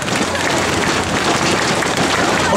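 An audience at the Hualien summer carnival concert in 2018 claps together in the 'love encouragement' cheer, a dense burst of many hands clapping, loud and close, lasting a few seconds.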